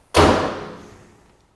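A Hercules 750 VPL elevator door swings shut with a single loud slam, its ringing tail fading away over about a second.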